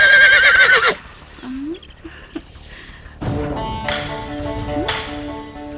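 A horse neighs loudly at the start, a shrill whinny close by, followed by quieter rustling and thumps, then voices talking and singing-like tones later on.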